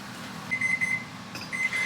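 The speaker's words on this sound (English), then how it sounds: "As you can hear, the timer's going off, which means everything is done." A kitchen timer alarm rings while apple strudel bakes, giving two bursts of steady repeated high beeps over a low background hum, with no talking.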